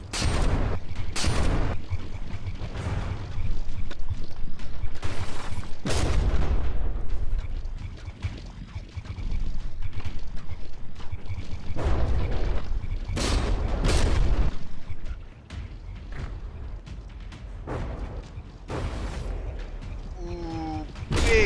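Warship guns fire in the From The Depths naval battle game, producing heavy booms in irregular bursts between stretches of rumbling noise and mechanical creaks.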